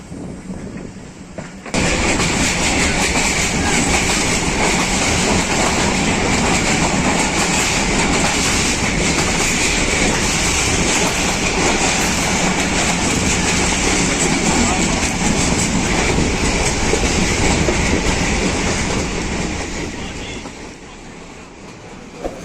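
A Pakistan Railways Awam Express train on the line between Rawalpindi and Peshawar passes close and loud, with a continuous roar and a rhythmic clatter of wheels over rail joints that fades near the end.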